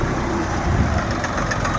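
A second-hand 39 HP tractor engine idles steadily nearby, a continuous low rumbling drone with an even, slightly knocking texture and no pauses.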